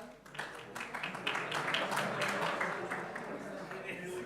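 Audience at a rail innovation awards ceremony breaks into applause, scattered claps building into a moderate, sustained round of clapping in a hall.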